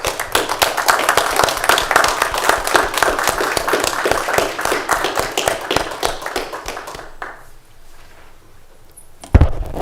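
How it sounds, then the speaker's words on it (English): A round of applause from a small audience at a county commissioners meeting, brisk scattered clapping for about seven seconds before fading into quiet room tone, ending with a sharp thump. "I'd like to give Commissioner Hamercheck a round of applause."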